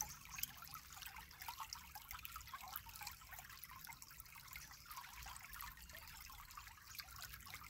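A river flows steadily with a continuous trickling, babbling water sound that holds an even level throughout, fairly soft and with no voices.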